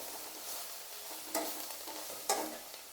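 Amaranth leaves stir-fry in a steel pan with a soft continuous sizzle, broken by two sharper scraping clatters of the spatula against the metal.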